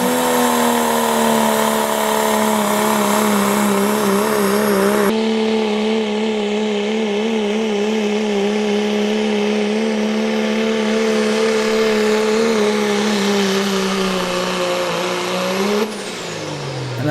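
A 1991 Dodge truck named Bad Company roars at full power through a truck pull run, a loud sustained engine drone that wavers slightly in pitch and then drops abruptly near the end.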